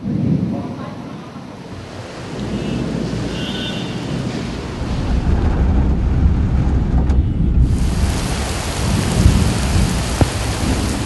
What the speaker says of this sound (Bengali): দুপুর থেকে বজ্রবিদ্যুৎ সহ বৃষ্টি, সঙ্গী দমকা হাওয়া।